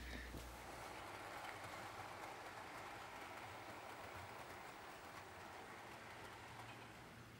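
Model 0-4-0 tank engine trains, including a blue Caledonian Railway engine, running on track as a faint, steady rumble of wheels with a continuous whirring hiss and no talking.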